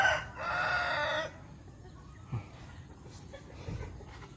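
A crossbred rooster crows once, loud and close, for about a second, followed by quiet farmyard background with faint clucks.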